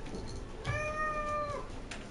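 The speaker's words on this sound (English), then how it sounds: "That's the cat." A single cat gives one clear, drawn-out meow of about a second, close by over a soft background hum.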